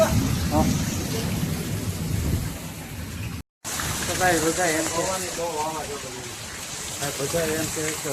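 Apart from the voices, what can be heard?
heavy rain with strong wind in a village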